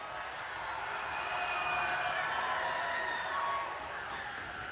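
Steady roar of a large crowd cheering for the blue alliance at a robotics competition regional event, a broad sustained wash of voices and applause, loud and unbroken.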